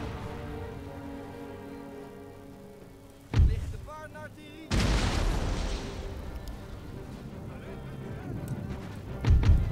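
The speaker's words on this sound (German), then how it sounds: "Die schießen aber auf unsere Truppen." Battle in the game Empire: Total War, with muffled booms of artillery and crackling musket volleys rolling in bursts at a distance, under an ongoing din, while players chat.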